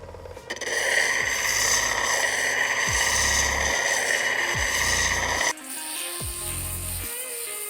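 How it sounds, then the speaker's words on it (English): Steady, loud grinding whine of a lapidary wheel smoothing the edge of a honeycomb calcite cabochon, running continuously with a few brief dips as the stone is lifted and repositioned, then a lighter tone in the final seconds. "just kind of grind it down just a little bit, get it nice and smooth"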